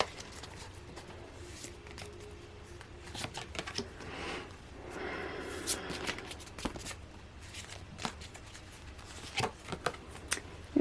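Tarot cards shuffled and laid out one by one on a table for a nine-card spread, with soft papery slides and light taps recurring across the stretch, close and quiet, with no talking.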